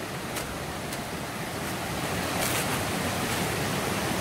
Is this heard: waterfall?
yes